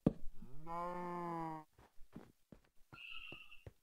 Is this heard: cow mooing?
yes